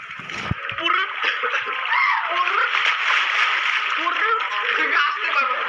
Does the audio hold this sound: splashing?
yes